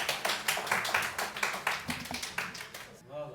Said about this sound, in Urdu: بہت ہی بھرپور تالیوں میں استقبال کیجیے جناب اسرار ایوب صاحب